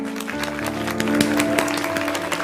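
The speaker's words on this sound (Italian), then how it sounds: "applausi" Studio audience applause on a Sicilian radio-TV show, a short burst of scattered clapping heard over a sustained musical backing for a couple of seconds.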